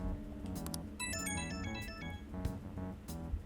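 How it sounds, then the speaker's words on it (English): In the video game Persona 5 Strikers, a phone ringtone chimes as a bright, quick melodic run over ongoing background music and soft game sounds, moderately quiet, with no talking. "Incoming phone call from SaNi Niijima."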